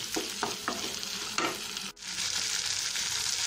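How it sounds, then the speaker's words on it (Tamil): Tomato being sautéed in a pan for a spicy quail gravy, a close continuous sizzle with several sharp stirring scrapes early on and a brief dip before the frying noise resumes. "நல்லா மிக்ஸ் பண்ணிக்கலாம், நல்லா வதக்கிக்கலாம்"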